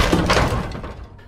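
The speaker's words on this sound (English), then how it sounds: "The glass at its center detached from the frame, shattered against, then deflected off the wall, cascading a shower of glass particles." A glass pane breaks loose from its frame in an office and smashes against a wall, a single loud, close crash that spreads into a fading shower of glass fragments.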